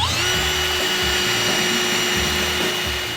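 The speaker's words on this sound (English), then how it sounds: "So we're drilling holes to try to make the existing radiator work with the new radiator kit." A power drill whines steadily and loudly while boring holes in metal radiator brackets on a used four-wheeler, a sustained close drone with no speech.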